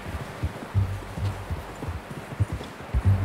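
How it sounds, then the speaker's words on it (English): Horse hooves from the Red Dead Redemption 2 video game clip-clop in a steady walking rhythm, close and fairly loud, with no talking. "How's that new horse?"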